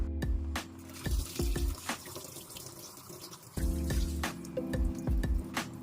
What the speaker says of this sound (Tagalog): sinugasan ko muna yung trigo katulad ng paghuhugas natin sa bigas